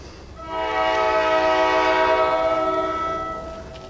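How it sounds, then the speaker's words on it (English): A New Jersey Transit train approaches on the Lackawanna Cut-Off, its horn sounding a loud, steady chord that swells in and holds for about three seconds before fading, with no talking. "we had New Jersey Transit's train coming up the tracks behind me"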